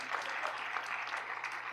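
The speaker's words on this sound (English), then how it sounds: "We clap for them" A short, faint burst of audience clapping for staff at Kenya Innovation Week, a soft, even patter heard at a distance in a hall.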